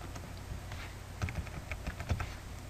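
Computer keyboard keys pressed during Adobe Photoshop skin retouching, a steady patter of light close clicks with a few louder taps, no talking.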